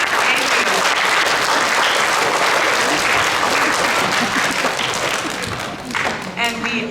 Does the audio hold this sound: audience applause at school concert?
yes